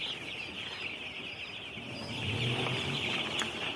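Broiler chickens cluck and chatter together in a poultry shed, a busy murmur of many birds at moderate distance, with a few louder calls rising near the end.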